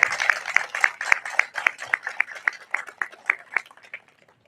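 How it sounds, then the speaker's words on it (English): An audience at a Soledad fire apparatus and ladder truck ribbon-cutting ceremony claps for firefighters in a steady, rhythmic beat of sharp claps that gradually thins and fades out. "So let's give them a round of applause as well."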